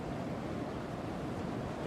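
Ocean waves used as a sound effect in a song wash steadily in a soft, continuous roar with no other sounds over it.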